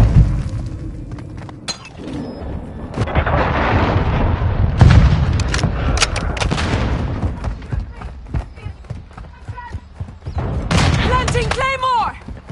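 A missile explosion in Call of Duty: Modern Warfare 2 multiplayer booms amid heavy gunfire and shattering debris, loud and close, followed by more shots and distant rumbling while voices call out.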